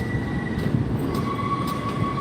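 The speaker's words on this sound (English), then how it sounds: "can you see it? That's the train." A subway train passing near the Brooklyn Bridge and One World Trade Center in Manhattan, a loud close rolling rumble with sustained wheel squeal tones over it.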